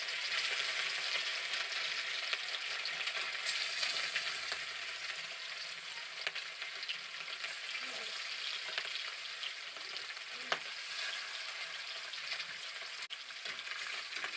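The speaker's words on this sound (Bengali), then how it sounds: "এবার আমি দিয়ে দিচ্ছি নুন হলুদ মেখে রাখা মাছগুলোকে" Rohu fish pieces coated in salt and turmeric fry in hot oil in a wok, giving a steady, fairly quiet sizzle with a few faint clicks and pops throughout, with no voices.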